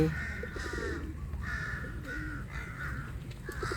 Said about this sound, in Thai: เสียงการ้องลั่นเลยค่ะ